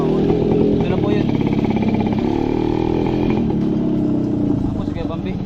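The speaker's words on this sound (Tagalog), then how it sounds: "Yan mga motor." Motorcycles pass along a highway, their engines making a steady, loud, rumbling drone that rises and falls slightly as they go by.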